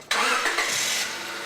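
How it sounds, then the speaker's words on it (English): A car engine, run during a coolant flush with a BG CT700 coolant transfusion unit, cranks briefly, fires and catches, then settles into a steady mid-pitched idle, close and clear with no talk. "Start the engine"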